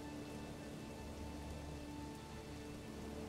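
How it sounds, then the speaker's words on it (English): Rain falls steadily in Manor Lords, an even, faint hiss of drops with a low constant backdrop and no talking. "Oh, look at the rain when you zoom out."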